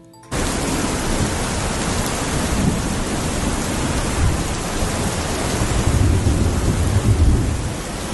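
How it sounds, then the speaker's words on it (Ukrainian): Steady heavy autumn rain pours down in a downpour with a deep rumble of thunder underneath, loud and continuous, swelling slightly toward the end. "Почалася злива. Краплі падають швидко, води стає все більше, і вода тече бурхливим потоком."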